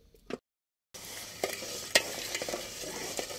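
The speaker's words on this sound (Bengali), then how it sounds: "গুড়টা একটু জাল করে নিয়ে নাড়াচাড়া করে আর কি গুড়টা গালিয়ে নিতে হবে।" Jaggery being heated and melted in a pan for winter pitha, stirred with soft scraping strokes over a faint sizzle after a brief silent gap, fairly quiet and close.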